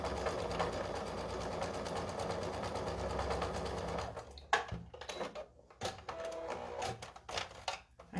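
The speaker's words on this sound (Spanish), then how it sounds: "Y vamos a coser en serie todos los triangulitos." A sewing machine chain-sewing patchwork triangles, a fast steady mechanical whir that runs continuously, then breaks into short stop-start bursts with brief pauses between pieces, close and clear.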